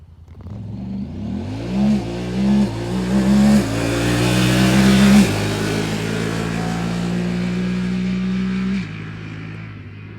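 A Honda Talon UTV on 32-inch tires accelerates hard in four-wheel drive on dirt, its engine climbing through several gear shifts before settling into a loud, sustained drone up close.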